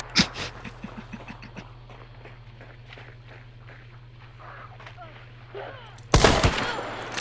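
Video game gunfire crackles as quick sharp shots early on, then busier mixed combat noise under a steady hum, ending in a loud burst.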